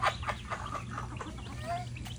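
Chickens cluck in short scattered bursts at close range over a steady low hum, with faint background activity throughout.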